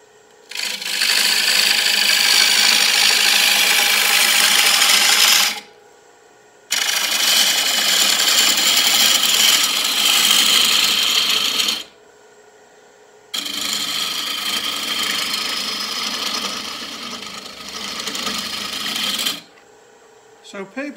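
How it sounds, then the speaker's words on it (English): A wood lathe turns a roughed-out bowl blank while an Easy Wood Tools scraper cuts it down to final thickness. Three loud, steady scraping passes of about five seconds each are separated by short silent pauses. "I'm going to be using my easy wood tool little scraper to get down to"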